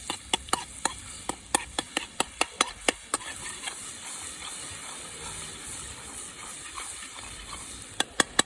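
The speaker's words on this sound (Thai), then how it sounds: "เราจะทอดกระเทียมเจียวกระเทียมให้มันสวยก่อน" Garlic frying in a pan, a steady hiss and sizzle under sharp, regular clicks of a utensil stirring against the pan. The clicking fades out midway and returns briefly at the end, with no talking.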